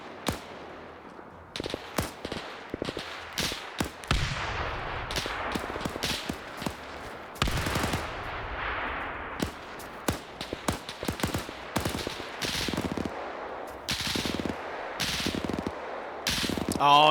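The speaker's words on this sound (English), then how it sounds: "Op4's stolen some MG42s now." Rapid bursts of MG42 machine gun fire in a WW2 video game, loud repeated volleys mixed with other gunshots and scattered footsteps, continuing through the whole stretch.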